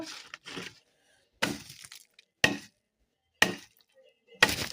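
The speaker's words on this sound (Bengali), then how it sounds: "এই দেখুন এই একটা কেটে নিলাম।" Knife cutting through vegetables in a home kitchen, five crisp chopping strikes spaced about a second apart, each a sharp crunchy crack with brief quiet gaps between.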